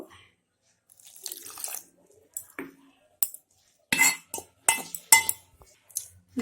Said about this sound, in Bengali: এখন অল্প অল্প করে জল দিয়ে একটা ঘন বেটার বানিয়ে নিব